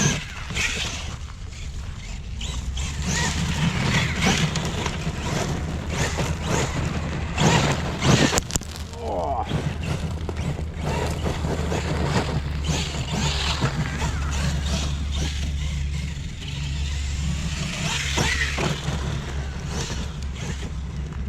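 A Kyosho Foxx VE brushless RC car with paddle tires runs continuously, producing a steady rushing motor drone mixed with wind noise and scattered rattles, close to the microphone and fairly loud throughout.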